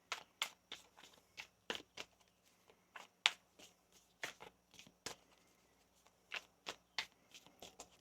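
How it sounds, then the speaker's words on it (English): Tarot cards shuffled by hand in a quiet room, a series of crisp close riffles and slaps in uneven bursts with short pauses between. "Let's get one more shuffle here."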